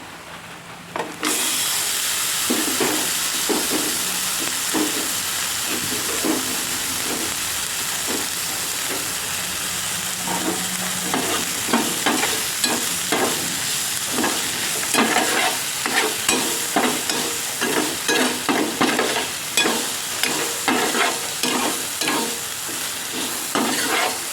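Small chicken pieces for chicken soup hit hot oil in a pot with a loud burst of frying, then crackle and hiss steadily while a spoon stirs with rhythmic scraping knocks that grow more frequent toward the end.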